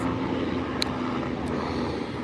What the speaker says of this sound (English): I'm outside, so you're gonna hear the helicopters.